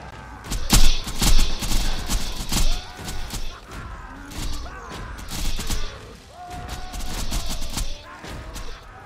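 Gunfire in the video game OP55, loud irregular bursts of shots and impacts with clattering mechanical noises and brief tonal effects in between, close and busy throughout.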